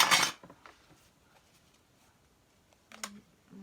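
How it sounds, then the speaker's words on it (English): A deck of small tarot cards being shuffled: a brisk, crisp riffle at the start, a long quiet stretch with faint handling, then another short flutter of cards near the end. "I'll give this one a little shuffle"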